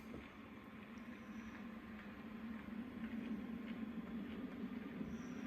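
A model Class 40 diesel locomotive runs along layout track with a steady, close motor hum and light rolling wheel noise that continue throughout, with no talking.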